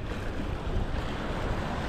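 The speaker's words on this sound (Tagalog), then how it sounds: "Malalaki ang alon." Big ocean waves surging around a boat at sea, a steady, loud broadband wash with wind buffeting the microphone, no voices.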